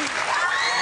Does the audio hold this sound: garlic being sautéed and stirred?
no